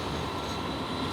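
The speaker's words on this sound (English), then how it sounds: "oh, this tram's coming" A city tram rolls past close by, a brief broadband rumble of wheels and rail noise filling the moment at steady loudness.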